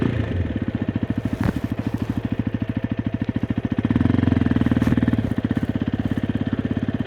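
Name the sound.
Hero Xpulse 210 motorcycle riding at low speed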